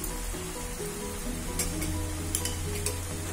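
Mushrooms fry in a pan as white vinegar is poured in for a mushroom starter, giving a steady close sizzle with a few sharper crackling bursts, and no one speaks.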